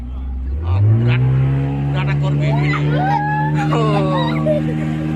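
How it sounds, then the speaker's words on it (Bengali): Boat engine on a dam lake revving up just after starting, a low droning tone that rises and then holds steady, loud and close, with a person talking excitedly over it. "বোটে চেপে গেছি, বোট স্টার্ট হয়ে গেছে"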